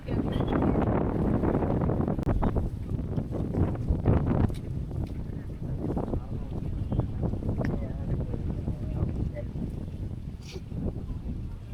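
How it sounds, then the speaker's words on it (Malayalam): Strong wind buffets the microphone in loud, uneven rumbling gusts during a Royal Enfield motorcycle ride from Achankovil to Tenkasi. "നല്ല കാറ്റുണ്ട് കേട്ടോ, നല്ല കാറ്റുണ്ട്."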